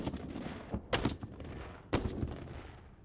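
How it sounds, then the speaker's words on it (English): A 120mm mortar system fires from a Type 96 tracked armored vehicle during a military exercise, giving two loud, sharp blasts about a second apart, each trailing into rumbling echo over steady outdoor background noise. "they both fire a 120mm mortar system"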